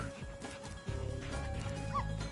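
A dog in Spyro Reignited Trilogy barks and whimpers briefly over layered game music and ambience, a few short yelps near the middle and end.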